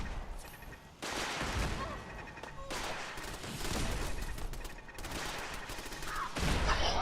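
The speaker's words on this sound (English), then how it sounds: "Whoa, rocket launcher." Rocket launcher fire and explosions in the video game Fallout 4, played in survival mode, rendered as dense, continuous roaring bursts with heavy low thumps, sustained loud for several seconds with a voice briefly mixed in.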